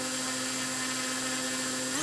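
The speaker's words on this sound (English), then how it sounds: "someone did ask me if I could spin a 4-inch prop on it because it is a 2500kV motor" A T-Motor F40 2500KV brushless motor fitted with a 4-inch propeller screams at a steady high pitch on a test stand, whining continuously and nudging slightly higher near the end.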